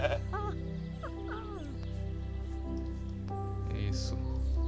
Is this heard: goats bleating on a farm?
yes